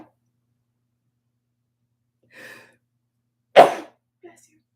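A single sharp sneeze bursts out close to the mic after a faint sigh-like breath, with a small trailing sound just after, in an otherwise quiet room.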